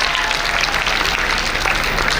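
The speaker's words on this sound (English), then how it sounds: "Please put a huge round of applause." Loud, steady applause from a crowd at a Model UN closing ceremony, greeting the Chief Technical Officer: a thick, even roar of many hands clapping throughout with no talk over it.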